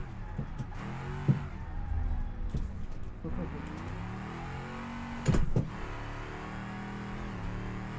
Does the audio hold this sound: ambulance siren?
no